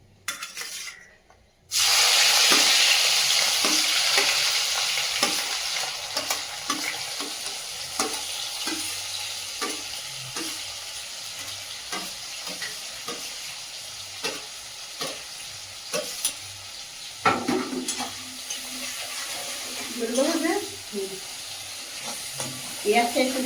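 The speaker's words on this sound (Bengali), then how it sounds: "পেঁয়াজটা একটু কষিয়ে দিই" Onion frying in hot oil with bay leaf and whole spices, stirred repeatedly: a loud continuous sizzle with scraping stirs and clinks that begins abruptly after a brief quiet start, with faint talk at moments.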